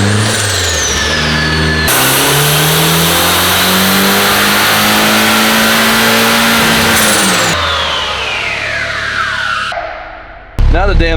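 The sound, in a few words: Rear-wheel-drive Honda Civic engine revving during a dyno pull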